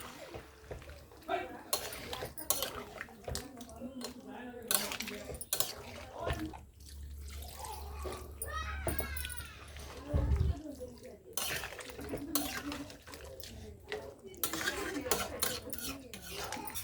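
Water is poured into duck meat frying in a pan for a duck curry, giving a close sizzle and splashing hiss, with scattered clinks of utensil against the pan.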